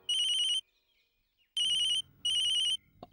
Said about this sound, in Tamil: அட, பிருத்திவிராஜ் தான் கால் பண்றான்.